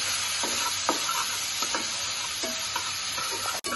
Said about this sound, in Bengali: এই যে মুরগিটা এখন একটু ভাজা ভাজা হয়ে গেছে।